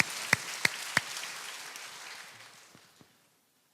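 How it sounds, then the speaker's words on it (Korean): A church congregation at a Sunday service claps in thanks: a few sharp, evenly spaced claps up front, then a soft patter of scattered clapping that thins out and stops. "하나님께 감사의 박수 올립니다."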